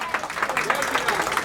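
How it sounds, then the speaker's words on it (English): Audience applause at a temple community gathering: a dense, steady patter of many hands clapping at a constant level for the whole short stretch, with a voice faintly mixed in. "Big round of applause for Mahendra ji"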